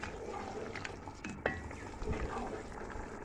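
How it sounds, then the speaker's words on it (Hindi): Mutton yakhni pulao mixture being stirred in a cooking pot, a soft scraping and gentle sizzling with a few light metallic knocks of the spoon against the pan, steady and close. "अब इसको मैं अच्छी तरह मिक्स करूँगी।"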